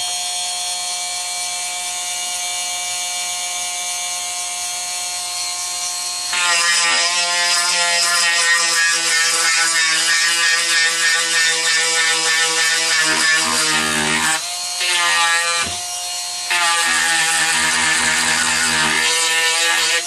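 A power grinder works over a frame during cleanup, its steady high-pitched whine starting lighter and then biting harder into the metal with louder grinding, briefly dipping a couple of times near the end. Close and continuous, with no talking.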